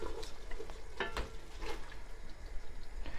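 Tomatoes going into a simmering chicken tagine sauce with olives and preserved lemons, giving a soft, steady sizzle and bubbling with a few stirring clinks, close by and without talk.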